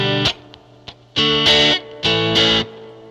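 Distorted electric guitar chords played through a Universal Audio Ox Box amp simulation with a raunchy Champ-style tone, a few quick muted plucks and then two sustained crunchy strums, loud and close.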